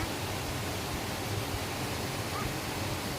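Strong, steady rushing river water roars continuously on a mountain hike near Igcabugao, Igbaras, a dense broadband wash like a fast-flowing river close by.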